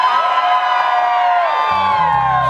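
A concert crowd at the Rickshaw Stop screaming and cheering loudly in a dense, sustained wall of high-pitched shrieks and whoops, with a low rumbling thud entering near the end.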